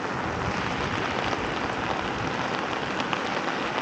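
Steady rain pours down across a park in Tampere, a dense, even hiss of drops on surfaces that holds at a constant level throughout with no voices.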